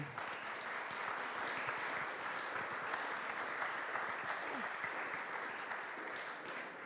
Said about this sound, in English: please give a warm round of applause to Anna and Mariam from Ukraine.